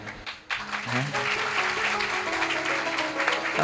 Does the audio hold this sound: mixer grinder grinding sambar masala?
no